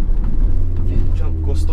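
A 2009 Hyundai Azera V6 engine turns over heavily with a deep, throbbing low rumble, heard close up while someone talks over it.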